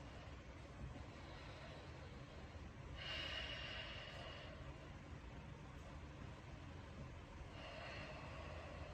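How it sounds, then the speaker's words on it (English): Slow, deep breathing in and out through the nose during a stretching exercise, soft breaths rising into a louder hissing exhale around the middle and again near the end, over a quiet steady background hum. "So breathing in and out through the nose."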